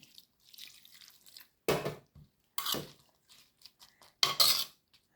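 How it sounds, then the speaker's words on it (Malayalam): Prawns and mango being tossed in a pan with coconut oil, heard as a few sharp scraping clinks of a spoon against the pan between quiet gaps. "എല്ലാം ചേർത്ത് നല്ലതായിട്ട് ഇളക്കി നമുക്ക് പറ്റിച്ചു വരാം"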